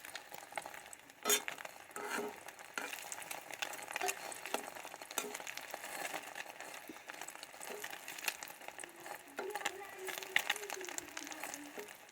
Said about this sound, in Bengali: দেখে ডিমটা আমি উল্টে দিব।